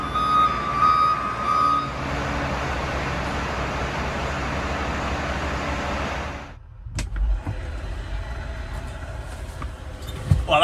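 A Combi Lift heavy lifting vehicle, a big remote-controlled carrier, drives nearby with a loud steady engine and mechanical drone, abruptly cutting off partway, then quieter rumbling with scattered clanks and occasional faint beeps.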